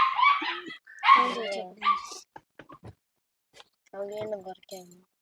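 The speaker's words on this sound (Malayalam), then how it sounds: "അപ്പുറത്തൊരു പട്ടി കിടന്ന് ഭയങ്കരമായിട്ട് വിളിക്കുകയാണ്" A dog barks repeatedly nearby in loud, yelping bursts with short whimpers between them, its sharp harmonic calls standing out against silence.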